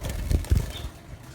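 A trapped bird flaps its wings while someone catches it, giving two or three quick, soft close fluttering bursts followed by quieter rustling.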